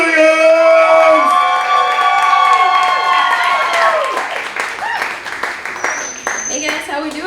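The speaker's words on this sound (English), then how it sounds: "Give a big round of applause for Kaitlyn McWilliams!" A crowd at a comedy show in a Dallas gallery cheers, whoops and claps for a comedian, with loud shouted cheers up front giving way to steadier clapping, close and energetic.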